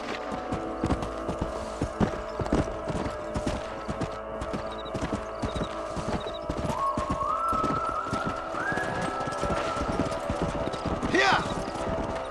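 Steady clip-clop of horse hooves trotting throughout in the video game Red Dead Redemption, with a brief whinny near the end and voices talking faintly underneath.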